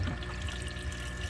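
Water from an aquarium drain flows down through a drilled hole into a DIY 20-gallon sump, a steady, close, continuous pouring rush.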